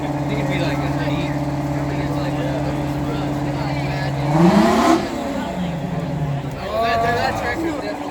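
A Big Bud tractor engine droning steadily at high revs, rising in a sharp surge midway before settling back, close and loud, with people talking over it.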